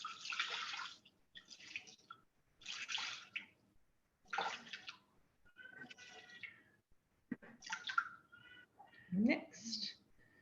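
Water poured into a Thermomix bowl set on its built-in scale, measured out while cooking for a large family; a few splashing bursts come in separate spurts, close and fairly soft, with talk between them.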